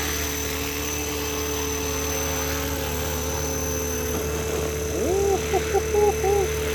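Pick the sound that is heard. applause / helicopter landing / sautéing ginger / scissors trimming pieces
helicopter landing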